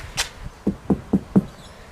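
Knocking on a Ford Territory door panel lined with Dynamat sound deadener: a brighter tap, then four dull, evenly spaced thuds, close and fairly damped, with no talking.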